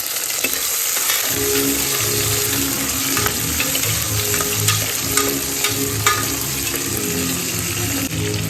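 Onions frying for a beef curry hiss in a pan with a loud, steady sizzle while a spoon stirs them, giving scattered scraping clicks over the constant frying noise, close up and with no voices.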